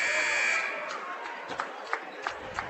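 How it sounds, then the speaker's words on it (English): A buzzer marks the end of the third quarter at a high school boys basketball game. The short, bright tone sounds near the start, then gives way to crowd noise and a few sharp thuds. "There it is at the buzzer."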